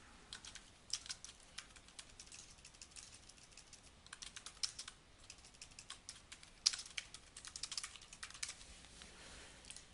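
Someone types a name on a computer keyboard: fast runs of light, close keystrokes come in quick bursts separated by brief pauses, with no voice over them.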